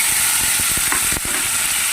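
Coriander leaf and green chili paste hits hot oil with a dried red chili, a loud dense hiss of frying close up, with faint rhythmic scraping of a spatula underneath.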